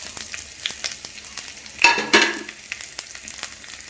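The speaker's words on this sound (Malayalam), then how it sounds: "ഈ വെളിച്ചെണ്ണയിലേക്ക് നമ്മൾ ഇഞ്ചി വെളുത്തുള്ളി അതുപോലെ തന്നെ പച്ചമുളക് കറിവേപ്പില ഇത്രയും സാധനങ്ങൾ നമ്മൾ ഇതിലേക്ക് ഇട്ട് വഴറ്റുക" Ginger, garlic, green chili and curry leaves are sautéed in hot coconut oil, giving a close, continuous sizzle with a loud crackling flare midway and light stirring ticks throughout.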